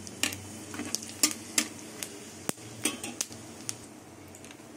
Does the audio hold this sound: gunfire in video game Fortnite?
no